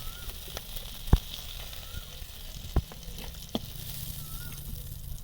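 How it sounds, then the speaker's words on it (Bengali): Vannamei prawns frying in a pan of oil for a Bengali village-style prawn malai curry, a steady close sizzle broken by a few sharp clacks as they are turned and lifted out. "চিংড়ি মাছগুলো ভাজা হয়ে গেছে"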